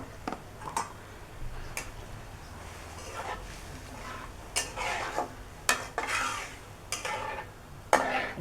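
A spoon stirring cumin and coriander powder with garam masala in a cooking pot, giving irregular metallic clinks and scrapes over a quiet frying hiss, close by.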